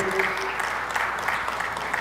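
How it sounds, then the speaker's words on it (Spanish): Applause from an audience at a municipal council ordinary session, moderate clapping that fluctuates slightly, with a faint murmur of voices beneath it. "un aplauso también para ellos."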